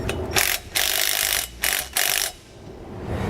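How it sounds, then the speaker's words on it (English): Ratchet wrench with a 9/16 socket cranks a serrated 3/8 flange nut while fitting motorhome helper springs: three or four quick, loud bursts of clicking pawl strokes separated by short pauses, close up, with no voices. "then again with that 9/16 socket, tighten it up"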